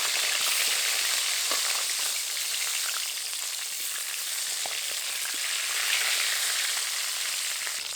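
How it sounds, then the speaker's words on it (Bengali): Two nayana fish heads frying in hot oil, a loud steady crackling sizzle with scattered pops, close and continuous. "মাছের মাথা দুটোও ভেজে নেব।"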